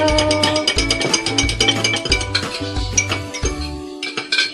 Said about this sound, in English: And then I'm gonna mix it well.